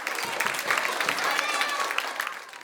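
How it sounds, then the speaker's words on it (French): An audience at a forum theatre session on stereotypes and education applauds the performers, a brisk, dense clapping a few seconds long with voices murmuring through it. "Déjà, on peut les applaudir."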